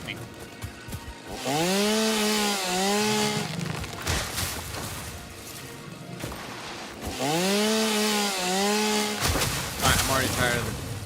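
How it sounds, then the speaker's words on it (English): Chainsaw felling trees in the video game Satisfactory: two loud, sustained bursts of whining engine revving up and down, separated by a short lull. "Tired of the chainsaw noise,"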